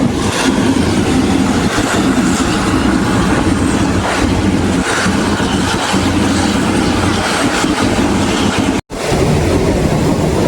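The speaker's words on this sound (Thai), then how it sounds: "บรรยากาศ รถไฟขบวน447นะครับ สุราษฎร์ธานีสุไหงโกลก" Thai local train 447 from Surat Thani to Sungai Kolok rolling along, a loud continuous rumble and rattle of the carriages with rail clatter, heard from on board with a brief cut near the end.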